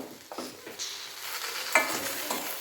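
Okra fries and smokes in a pan on low heat for bendekai palya, a loud close sizzle broken by a few scrapes and clacks of stirring, with no speech.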